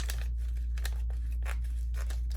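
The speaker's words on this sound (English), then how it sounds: "I'm just going to cut it off really quick" Scissors snipping through an infusible ink transfer sheet for a tote bag craft, several quick crisp cuts in an uneven rhythm over a steady low hum, close up, no talking.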